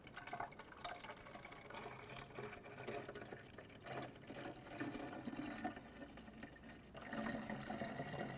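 Coolant is poured into the plastic expansion-tank reservoir of a 2006-2013 Chevrolet Impala, making a steady, close liquid trickle and gurgle that runs continuously for several seconds with slight swells in level.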